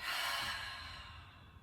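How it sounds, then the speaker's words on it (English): A forceful exhale during hatha yoga breathing, a strong breathy whoosh of air that starts loud and slowly fades away, close to the microphone with no voice over it. "Take a nice deep breath in and exhale forcefully."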